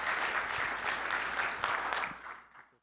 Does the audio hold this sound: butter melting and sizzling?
no